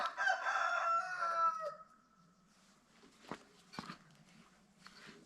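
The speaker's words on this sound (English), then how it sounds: "And Randy the rooster's making his noise." Randy the rooster crows once, loud and close, a long harmonic call lasting under two seconds, followed by quiet farmyard background with a few soft thumps and faint clucking.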